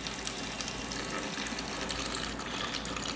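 Coolant from a 2019 KTM 65 motorbike draining out in a steady, continuous trickling splash, close and fairly loud throughout.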